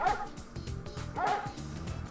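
Two short dog barks come from the PS1 Frogger video game, each a quick yipping bow-wow, spaced about a second apart and sitting over quieter game sounds.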